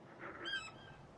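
A chocobo in Final Fantasy XVI lets out one short honking, warbling bird call over a quiet ambient game background.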